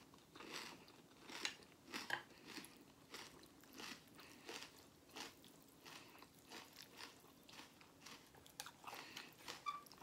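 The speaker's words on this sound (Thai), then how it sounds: "ผักสดกรอบ" Crunchy fresh raw vegetables such as cabbage being bitten and chewed, with steady repeated crisp crunches close to the mic and no talking.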